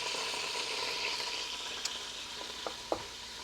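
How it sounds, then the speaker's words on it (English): Beef browning in a pan for braising, a constant close sizzle and crackle with a few sharp utensil clicks and scrapes as the pieces are moved around. "Just moving around the beef there, getting that browned on all sides before I pull it out"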